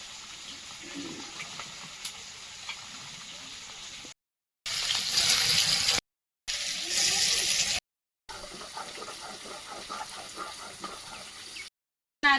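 Water poured into a cooking pot already holding boiling water with a little salt, a steady close gushing pour in several bursts separated by brief silences.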